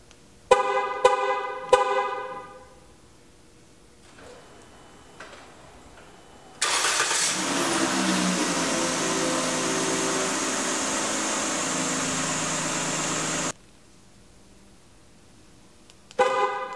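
A 2012 Dodge Grand Caravan remote starts: a few short horn toots, a pause, then the engine cranks and fires into a loud steady idle for several seconds before cutting off.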